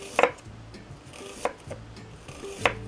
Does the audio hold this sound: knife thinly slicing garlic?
yes